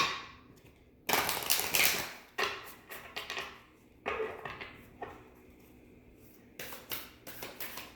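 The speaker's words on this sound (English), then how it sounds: "I'm being instructed to shuffle one more time." Crisp bursts of papery riffling and tapping as oracle cards are shuffled, several separate shuffles with short pauses between them, close up and without voices.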